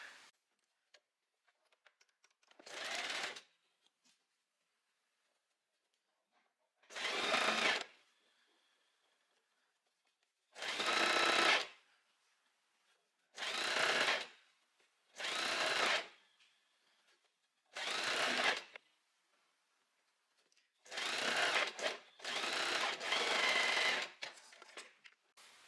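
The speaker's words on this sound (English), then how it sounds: "I think I'm just going to go straight to my sewing machine" Domestic sewing machine stitching dress fabric for a wrap dress, running in about eight short bursts of one to three seconds separated by quiet pauses, each a close, fast mechanical whir.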